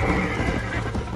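A horse in the Red Dead Redemption video game whinnies loudly up close, with hoofbeats clopping beneath the call throughout the short burst.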